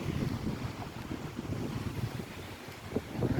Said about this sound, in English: I don't know if you can hear it, but the water gets a little quieter as I'm walking away.